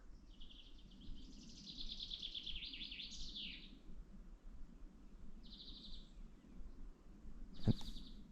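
Chaffinch contact calls from overhead in a winter woodland, a few faint, high, clipped notes, one longer call followed by two short ones, over a soft low outdoor background.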